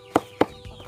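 Free-range chickens at feeding time give two short, sharp clucks close by, followed by a softer low call.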